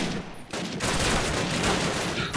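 Bursts of gunfire in a Call of Duty battle in a village at dawn, a steady, close rattle of shots that fills the short stretch after a brief quieter start.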